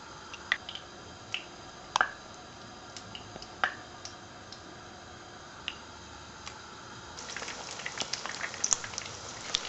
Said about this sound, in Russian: Когда масло хорошо разогрелось, обмакиваем кляре и